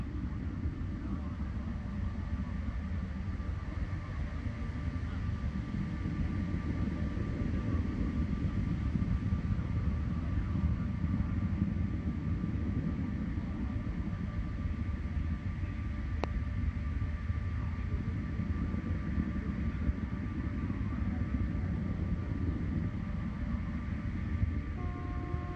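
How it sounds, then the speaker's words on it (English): Soyuz rocket launching into the night sky over Kazakhstan, a steady, broad, distant roar that holds constant without breaks for the whole stretch. "Soyuz blazing into the night sky over Kazakhstan."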